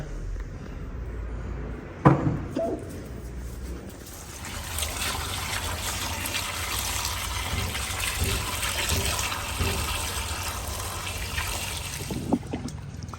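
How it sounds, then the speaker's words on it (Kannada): Steady running water pours over a soil-covered tuber being washed clean after peeling, a continuous trickling rush after a brief knock near the start. "ಈ ಗಡ್ಡೆನ ಕ್ಲೀನಾಗಿ ತೊಳ್ಕೊಬೇಕು ಮಣ್ಣಿಲ್ದಿರೋ ಥರ"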